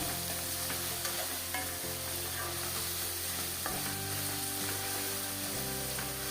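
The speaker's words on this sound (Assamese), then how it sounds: "এতিয়া মই আকৌ এইখিনি ভালদৰে লৰাই দিম।" A pan of frying food, goat tripe being cooked, is stirred with a spoon, giving a steady close sizzle broken by a few scraping strokes and clinks against the pan.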